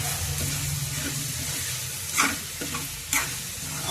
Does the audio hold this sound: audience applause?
no